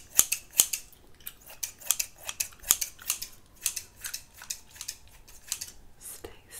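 Scissors snip hair in a close-up ASMR haircut, a rapid irregular series of crisp metallic clicks and shears, near and distinct, with no talking.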